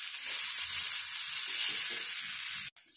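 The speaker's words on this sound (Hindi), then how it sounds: "इसमें मैं ऐड करूंगी कोरिएंडर लीव्स, धनिया पत्ता, इसे भी मिक्स कर लें।" Potatoes and onions for a Spanish omelet sizzle loudly and continuously in a pan as coriander leaves are mixed in, with soft stirring bumps underneath and a brief break near the end.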